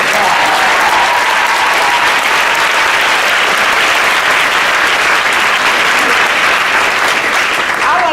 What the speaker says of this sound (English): So let's give our chair another round of applause.